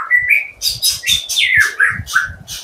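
Oriental magpie-robin chicks call in quick, bright chirps and short whistled notes, a busy, close run of repeated tweets with soft low thumps beneath and no talking.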